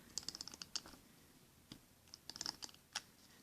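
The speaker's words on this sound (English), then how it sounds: "So I'm going to put glue tape on" Dollar-store glue tape runner pressed onto a handmade card, giving quiet close-up bursts of small clicks and crackles in short clusters, with pauses between strokes.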